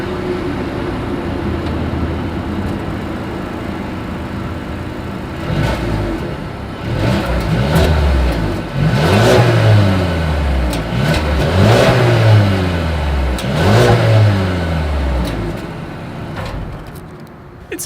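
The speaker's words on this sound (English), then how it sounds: "As always, here is that exhaust clip." A 2020 Mercedes-Benz A220 with dual exhaust outlets and chrome tips idles steadily, then revs repeatedly in rising, falling bursts, loud and close, with no talking.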